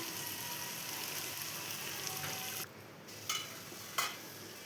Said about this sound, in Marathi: छान असं वांगे तेलामध्ये परतवून घ्यायचे आहे, जेणेकरून मसाले पण छान परतले जातील